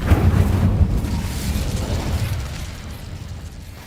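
The Incendio fire spell is cast in Hogwarts Legacy, a loud, roaring, explosive burst of flame with rumbling low crackle that slowly fades over a few seconds.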